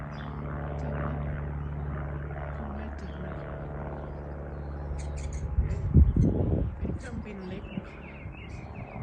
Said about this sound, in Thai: อันนี้เป็นเครื่องบินเล็ก กล้องไม่จับ